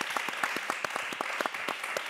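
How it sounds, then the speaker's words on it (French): A church audience claps steadily and cheers in acclaim of Jesus during a women's Christian program, the dense applause filling the space with sharp individual claps throughout. "Aidez-moi à acclamer Jésus."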